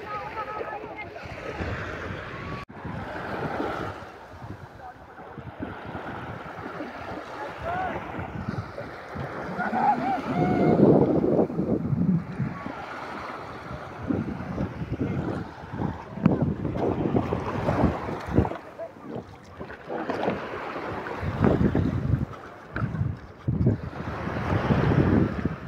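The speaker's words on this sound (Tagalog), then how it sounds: "Sarap pakinggan ng dagat." Sea waves wash and surge in repeated swells at La Union, Philippines, mixed with wind buffeting the microphone and faint voices now and then.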